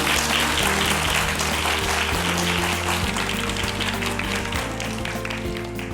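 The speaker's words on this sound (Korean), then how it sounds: "오늘 좋은 강연과 말씀드린 우리 소장님께 큰 박수로 부탁드립니다" An audience gives continuous applause after a lecture in a hall, a dense, steady roar of many hands over a low steady hum, fading only slightly toward the end.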